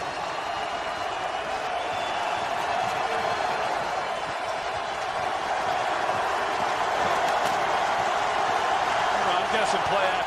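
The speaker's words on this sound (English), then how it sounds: "This crowd cranks it up on fourth and goal." Stadium football crowd at an NFL game, Packers at Redskins in Washington, roaring steadily on fourth and goal; a dense, continuous wall of cheering holds loud throughout and swells slightly toward the end.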